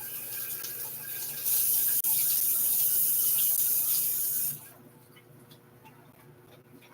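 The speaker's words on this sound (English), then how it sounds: "Rinsing out these green onions." Green onions are rinsed under a running kitchen faucet, a bright steady splash of tap water that starts after a moment, holds for a few seconds, then cuts off to a quiet room hum.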